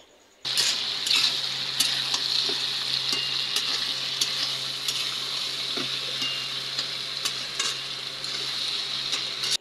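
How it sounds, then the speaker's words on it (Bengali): Vegetable bhaji frying in a pan, a continuous close sizzle with scattered sharp clicks and scrapes as it is stirred, starting abruptly after a brief quiet moment. "আমি ভালো করে ভাজিটা নেড়ে দিচ্ছি।"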